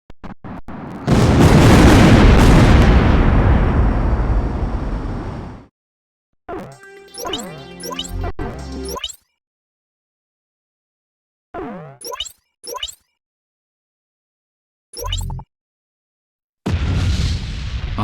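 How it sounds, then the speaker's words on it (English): Explosions in an Ace Combat X game cutscene: a long, loud roaring blast up front, then a series of sharp bursts and crackling booms separated by silent gaps, with another heavy blast at the end. "Archelon and Diego Navarro's beloved weapon Fenrir were ripped by explosions and engulfed in flames"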